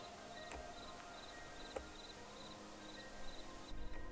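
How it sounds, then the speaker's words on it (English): Crickets chirping at night in the Gila Forest, a steady, regularly pulsing high trill repeating through the stillness, faint and distant with a couple of small nearby knocks. "Do y'all hear those crickets?"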